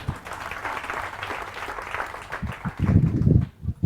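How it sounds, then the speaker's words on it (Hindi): Morning-session audience in a seminar hall gives a short round of clapping, moderately loud and dense, with a few louder claps near the end. "तो इनके लिए तालियां बजाओ एक बार।"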